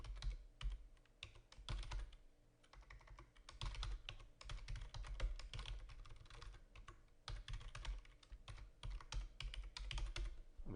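A serial number is typed on a computer keyboard, with quiet, steady keystroke clatter running continuously in brisk irregular bursts.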